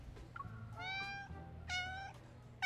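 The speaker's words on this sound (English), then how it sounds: "While Odo is calming down the agitated cats" Agitated cats meowing in the video game Love & Deepspace: several clear, fairly close meows, each drawn out and rising, spaced apart over quiet background.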